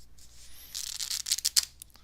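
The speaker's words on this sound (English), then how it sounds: "we're going to go ahead and shuffle" A deck of playing cards is shuffled during a magic trick, giving a short papery riffle followed by several crisp flicking snaps, close and clear with no talking.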